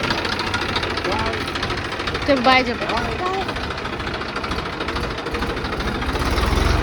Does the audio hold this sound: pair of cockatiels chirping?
no